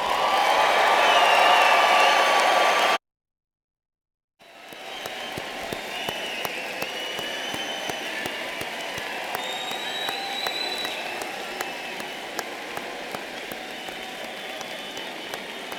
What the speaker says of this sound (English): give the new graduates a big round of applause